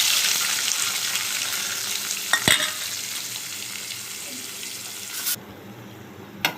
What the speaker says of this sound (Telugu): ఈ ముక్కలు కొంచెంసేపు వేగనిద్దాము